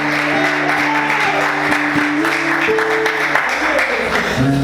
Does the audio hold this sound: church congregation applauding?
yes